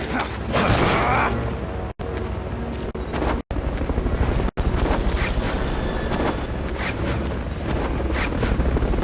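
Helicopter from a Metal Gear video game, its rotor drone roaring steadily and loud through the whole stretch, broken by a few abrupt cuts, with occasional game voices over it.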